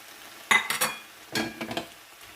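Peppers tipped into a pan of softened onions and carrots frying: a few quick clattering, scraping bursts of vegetables hitting hot metal and being stirred, close and moderately loud, with a soft sizzle underneath and no talking.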